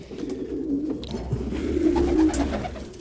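French meat pigeons cooing close by, low throaty rolling coos repeating in a steady series with no talk over them.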